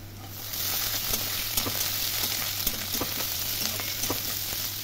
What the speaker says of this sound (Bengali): আমি দিয়ে দিচ্ছি যে পাস্তাটাকে ছোট ছোট করে কেটে রেখেছিলাম সেই পাস্তাটা।